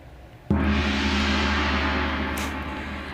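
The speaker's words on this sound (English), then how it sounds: "We will be displaying or signaling the end of the break with 2 dongs" A single loud electronic chime-like dong, signaling the end of a conference break, strikes and rings out with a long, slowly fading sustain.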